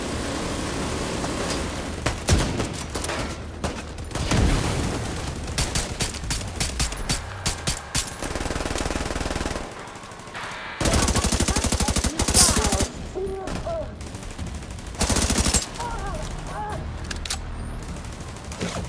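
Bursts of rapid machine-gun fire from a mounted gun in a video game, loud and dense, with heavier clusters of shots near the middle and end amid other battle noise.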